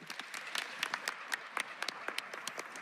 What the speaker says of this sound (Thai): ไม่ควรจะปรบมือนะครับ